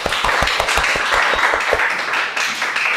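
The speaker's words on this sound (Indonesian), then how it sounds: "tepuk tangan untuk kita semua" Classroom of students clapping together at the end of a lesson, quick rhythmic claps that are loud at first, then thin out into scattered applause.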